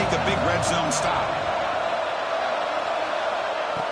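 Loud stadium crowd roar at a college football game during a red zone defensive stand, a dense continuous wash of noise with some voices over it.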